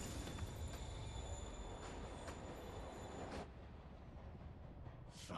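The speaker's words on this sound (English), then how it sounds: "Train's moving." A moving train in the Spider-Man video game rumbles loud and steady with rail squeal and clatter, then thins and softens toward the end, with no voices over it.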